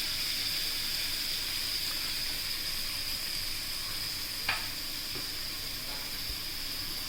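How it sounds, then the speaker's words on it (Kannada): Finely chopped onions fry in butter for pav bhaji, a loud, steady close sizzle that holds throughout with one brief stir or clink partway through. "ಸಣ್ಣಗೆ ಹೆಚ್ಚಿಕೊಂಡಂಥ ಈರುಳ್ಳಿಯನ್ನು ಹಾಕ್ತಾ ಇದ್ದೇನೆ"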